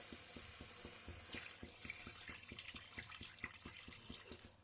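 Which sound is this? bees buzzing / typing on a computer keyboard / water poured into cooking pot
water poured into cooking pot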